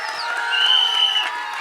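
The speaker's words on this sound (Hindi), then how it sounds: "धनुष सर के लिए एक बार जोरदार तालियां" Audience at a film trailer launch event cheering for actor Dhanush, a brief swell of whoops and shouts with scattered clapping, moderately loud and fairly close.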